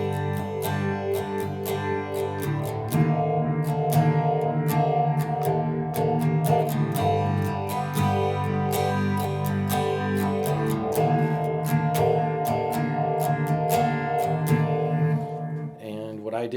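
An electric guitar strums back and forth between two sustained chords, a steady rhythmic pattern repeating several times before fading out.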